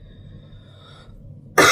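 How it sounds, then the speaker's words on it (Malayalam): A single loud, harsh cough from a person sick with a cold bursts out at the very end, close to the microphone, after near silence. "ചുമയുണ്ട്."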